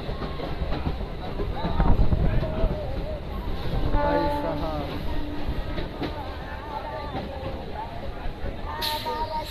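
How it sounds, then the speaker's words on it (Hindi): A passenger train on the Fatuha–Islampur line arrives, rumbling and clattering nearby with a steady roar, metallic squeals and brief tonal whines, while people talk in the background of a crowded station platform. "अपनी ट्रेन की अराइवल हो चुकी है"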